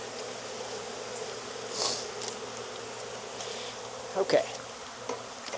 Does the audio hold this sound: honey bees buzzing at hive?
yes